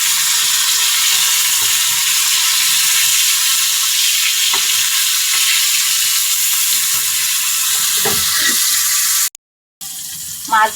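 Hilsa fish pieces frying in a pan in a home kitchen, a steady loud sizzle with soft scrapes and clinks as the fish is flipped, followed by a brief silence near the end.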